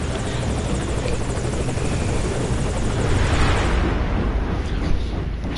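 A helicopter flies close by in a video game during a sandstorm, its loud, continuous rotor roar filling the whole stretch with steady rumbling wash and no pauses.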